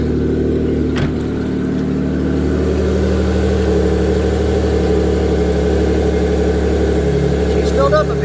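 A 2008 Pontiac G6 engine idles fast and steady at close range, a continuous mid-pitched hum holding level throughout with faint incidental clicks.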